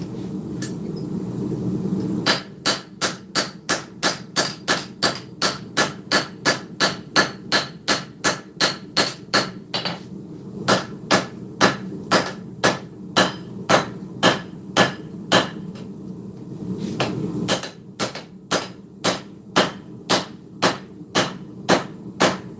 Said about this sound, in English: Good old Harbor Freight hammer.